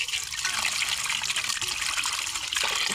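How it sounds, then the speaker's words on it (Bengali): Water splashes and trickles steadily over native chicken pieces being rinsed by hand, a close, continuous wet sloshing with no voices. "কয়েকবার পানি দিয়ে পরিষ্কার করে নিয়েছি।"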